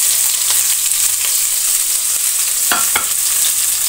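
Green chilies and onion frying in hot oil with cumin, a steady loud sizzle throughout with a couple of brief clinks of a utensil near the end.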